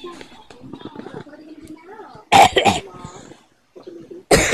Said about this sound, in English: Stop coughing, mate.